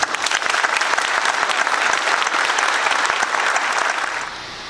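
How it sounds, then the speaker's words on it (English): Sustained, dense applause from an audience at a Key to the City ceremony, steady and full for several seconds before thinning slightly at the end. "We applaud you and thank you"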